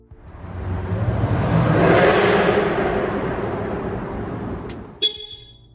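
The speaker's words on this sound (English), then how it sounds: "Yet when you drive it, it growls." A 2020 Jaguar F-Type R coupe's sports exhaust swells to a loud growl as the car passes close by, then fades, followed by a sharp short sound near the end.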